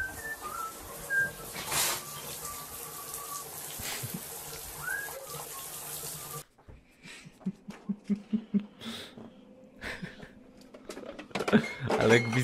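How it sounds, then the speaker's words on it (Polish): A pet parrot whistles several short, bright, rising and falling calls, close and clear, first under people chatting and laughing, then alone with a few rhythmic taps. "Ale gwizdała papuga?"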